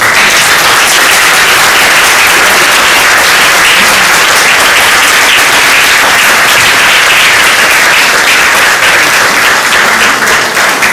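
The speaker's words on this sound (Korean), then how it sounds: "이 시간 우리 시선자매님 나오실 때 환영의 박수로 맞이해 주시기 바랍니다." Loud, sustained welcoming applause from a church congregation at a testimony gathering as a woman comes forward to speak, a thick, unbroken wash of clapping that holds at full strength for about eleven seconds.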